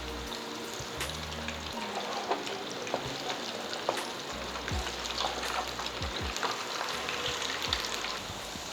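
Potatoes frying in hot oil in a pan, a continuous moderate sizzle with occasional light clicks and scrapes, no voices.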